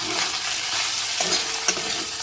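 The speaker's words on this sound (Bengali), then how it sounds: "এখানে হচ্ছে ভেন্ডি ভাজা মানে হয়ে গেছে এবার গ্যাস অফ করে দেবো" Okra frying with salt, turmeric and green chili in a pan, a continuous crackling sizzle with a couple of brief clinks of stirring, close by and without talk.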